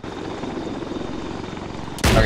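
A Mi-8 Hip helicopter hovers in the video game Arma 3, its steady loud rotor and engine drone filling the scene before a sudden, louder burst of noise cuts in at the end.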